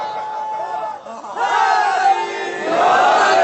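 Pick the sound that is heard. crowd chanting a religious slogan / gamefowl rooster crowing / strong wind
crowd chanting a religious slogan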